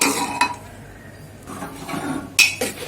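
A pressure cooker lid is opened after its steam has been released, with black kavuni rice inside. Close metallic clinks and clunks sound over a quiet room, with no voices.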